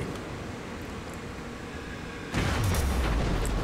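A naval cruiser's gun salvo striking near a ship in a naval combat game, heard as a sudden loud booming burst after a low steady engine rumble, with no voices.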